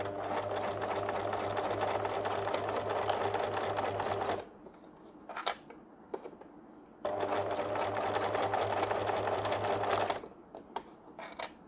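A sewing machine stitches a fabric pencil pouch in two steady bursts of fast, even whirring, each a few seconds long, separated by quiet pauses with faint handling clicks.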